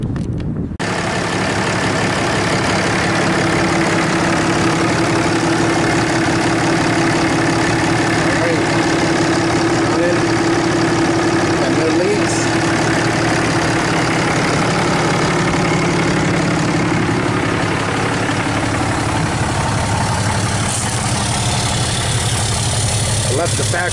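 A 2012 Ram 3500 with a 6.7L diesel engine, EGR and DPF deleted and running a 4-inch stainless turbo-back exhaust, idles steadily and loudly up close, a continuous low rumble throughout with no talking.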